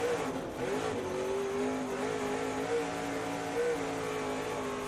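Tony Stewart's race car at Eldora dirt track during an SRX main event, its engine droning steadily near and loud as the throttle is worked, with slight pitch rises over a constant roar.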